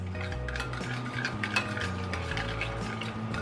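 A steak marinade with oil is stirred in a bowl for crying tiger steak, making quick close scraping and clinking of a utensil against the dish that repeats for a few seconds with no talk.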